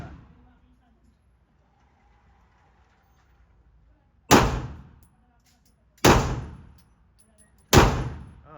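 Three loud, sharp gunshots fired slowly at a shooting range, spaced a couple of seconds apart with quiet, faint background between each blast.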